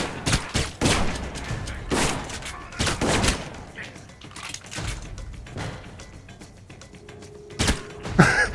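Enemy gunfire in the Alpha Protocol video game: sharp bursts of shots in rapid clusters, loud and close at first, then sparser, fainter pops with a few late cracks.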